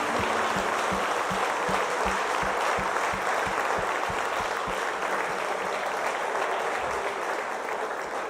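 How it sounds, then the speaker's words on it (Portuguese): Church congregation applauding to praise the Lord, a dense, loud, steady wash of clapping that fills the room and holds evenly throughout, with a low rhythmic thump underneath. "Dê um aplauso ao Senhor."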